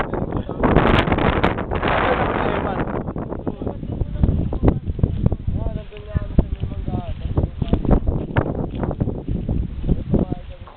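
Gusty wind on Mt. Sembrano buffeting the microphone in loud rumbling bursts, with mountaineers chatting over it and faint rustling in the background.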